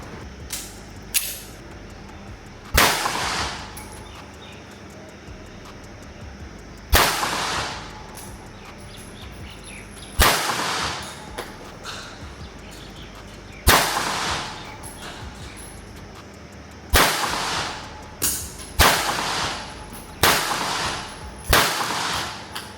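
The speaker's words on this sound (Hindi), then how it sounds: "लास्ट में हम 2-3 राउंड्स आवाज के लिए ऐसे ही फायर करके देख लेंगे टारगेट पे" Pistol shots from a JD Taurus PT58 HC Plus .380 fired at a target outdoors, about a dozen sharp loud cracks in irregular sequence, some single and some in quick pairs, each with a short decaying tail, no talking.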